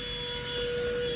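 A vacuum cleaner sucking up food, a continuous loud roaring whine with a steady high tone running unbroken through the short moment, close by.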